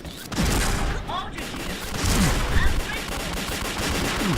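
Video game gunfire comes as bursts of rapid shots and booms, loud and close, while excited voices talk over the action.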